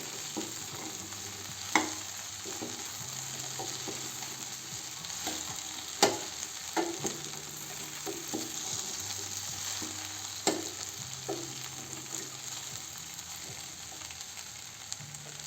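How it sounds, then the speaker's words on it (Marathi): Okra with gram flour being stirred in a frying pan, a continuous gentle sizzle punctuated by occasional sharp knocks and scrapes of the spoon against the pan, with no speech. "असं छान भेंडीला मिक्स करून घ्यायचं"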